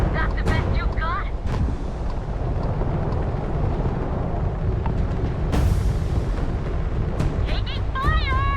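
Dense gunfire and explosive blasts in the space shooter game Starfield, loud and continuous booming bursts with whistling synthetic tones, game voices shouting over the chaos.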